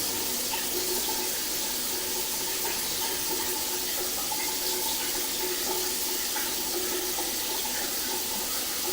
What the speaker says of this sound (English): So now we have both the sink on the left and the shower running with water.